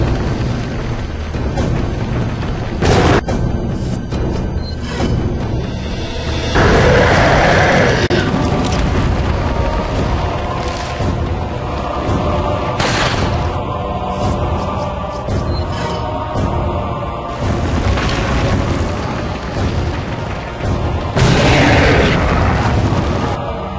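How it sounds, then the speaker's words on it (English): Grenades burst in a Resident Evil 4 fight, loud booms rolling out around 7, 13 and 21 seconds, with smaller pops between them over a dense, steady game soundscape. "Now I'm gonna start spamming grenades."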